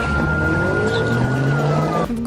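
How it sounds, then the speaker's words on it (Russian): Cars from a wedding motorcade drifting on a road in Grozny, a steady loud engine roar with a long sustained tire squeal that holds for about two seconds before cutting off. "Дорожные лихачи или свадебный дрифт"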